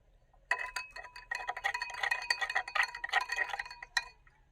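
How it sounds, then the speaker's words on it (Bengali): Salt being stirred into water with a spoon, giving a steady run of light clinks and scrapes against the container, close and fairly quiet with no talking. "ভালো করে নাড়িয়ে নেব যাতে লবণটা এই জলের ভিতরে গুলিয়ে যায়"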